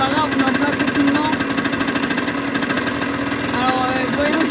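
Yamaha DTX 50 motorbike engine idling, a steady rapid mechanical putter heard up close and continuous throughout, with someone talking over it.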